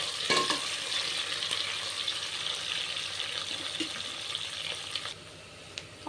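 Chopped onions frying in a pan for mushroom biryani, a continuous close sizzle that holds steady throughout with a few faint clinks near the end.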